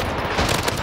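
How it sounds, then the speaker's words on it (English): Rapid video-game gunfire crackling steadily through a short burst, dense and loud, with a firefight continuing throughout and no voices. "They're under fire."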